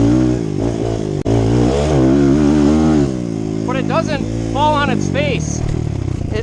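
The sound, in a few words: Kawasaki KLX140 dirt bike with 170cc big bore kit revving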